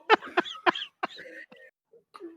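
Several harsh coughs in quick succession close by, followed by a few quieter throaty sounds and a brief pause.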